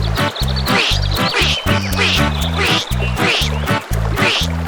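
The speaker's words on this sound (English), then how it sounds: "a hoarse quack comes from below Mama Duck. Quack!" An animated duck gives a run of loud, hoarse quacks, repeated rhythmically about once a second and heard up close with nothing else over them.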